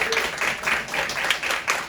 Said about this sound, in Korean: 크게 박수로 환영해주세요